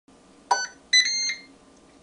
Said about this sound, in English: the green light came on there and it did a beep for us to let us know